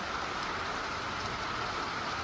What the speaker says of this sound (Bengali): এই দেখুন রোদ রয়েছে, কি সুন্দর আর বৃষ্টি পড়ছে।